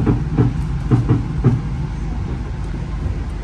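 The Malabar passenger train from Malang to Bandung rumbles past nearby at a station with a few rhythmic clacks of wheels over rail joints, then settles into a steady mechanical drone.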